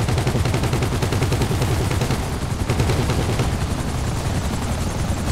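Valkyrie helicopter in GTA Online, its loud steady rotor thump filling the scene under continuous rapid bursts of gunfire, all dense and close with no pauses.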